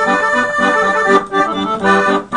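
Bayan button accordion plays a short two-voice rock phrase, both melodic lines sounding together in steady reedy chords, loud and close, with no talking.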